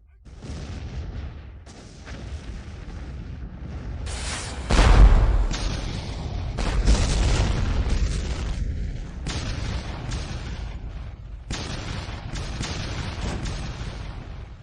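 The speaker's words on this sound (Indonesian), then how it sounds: "Meriam ini sangat tangguh." Cannon blasts fired in battle: several heavy booms follow one another, the loudest about a third of the way in, each trailing into a rumble, amid other noise and a faint steady tone early on.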